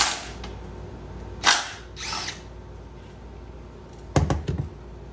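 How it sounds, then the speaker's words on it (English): A small impact gun removing bolts, giving short bursts of whirring and rattling hammering, one early burst and a louder cluster near the end, with quiet workshop background in between. "I'm using this little impact gun for everything"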